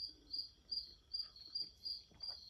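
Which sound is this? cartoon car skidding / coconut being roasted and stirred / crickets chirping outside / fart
crickets chirping outside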